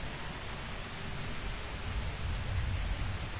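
Rain falls in a racing video game, a steady soft hiss of drops, fairly quiet and even across the short stretch, with no talk.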